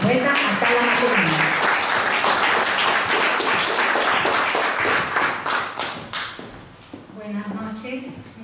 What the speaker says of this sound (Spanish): Un fuerte aplauso para la poeta Atala Materini.